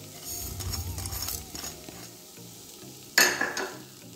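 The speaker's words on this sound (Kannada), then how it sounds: "ಚೆನ್ನಾಗಿ ಫ್ರೈ ಮಾಡಿ. ಇದನ್ನು ಕಲರ್ ಚೇಂಜ್ ಆಗುವವರೆಗೂ ಫ್ರೈ ಮಾಡಿ," Grated coconut, sugar and dry fruits fry in a pan with a soft sizzle and scraping stirs, followed by a brighter clatter near the end.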